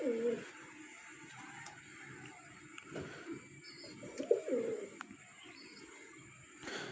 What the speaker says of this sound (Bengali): দেখতেছেন কি সুন্দর কবুতর আমার।